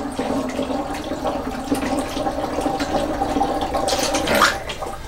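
Water is poured into a container while making mead, a steady, close splashing stream that runs throughout and swells slightly near the end.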